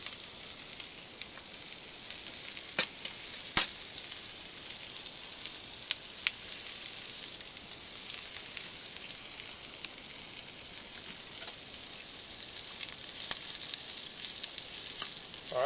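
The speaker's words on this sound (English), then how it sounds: "All right, you're gonna stir the onion." Onion fries in a pan for an omelet, a soft steady sizzle and hiss running throughout with occasional faint clicks and scrapes of stirring, quiet and even with no voices.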